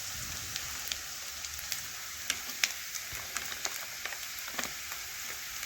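Onions frying in a pan with turmeric powder being added for a mustard and cumin paste fish curry, a steady close sizzle with scattered crackling pops and faint stirring throughout, no talking.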